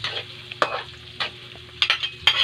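An egg frying in a pan gives a steady sizzling hiss, broken by a few sharp scraping stirs and louder spatters close by, with no talking.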